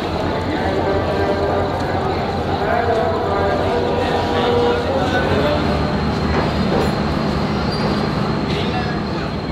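Steady rumble and clatter of a sleeper train pulling into Karachi station in Pakistan, bound for Islamabad, with constant platform bustle and murmuring voices around it.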